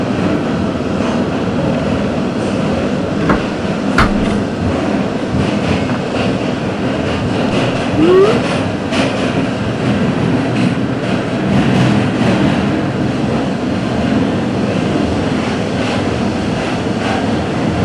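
A New York subway A train running out toward Far Rockaway, a steady loud rumble of wheels and car noise with rattling and brief squeals throughout, no talk.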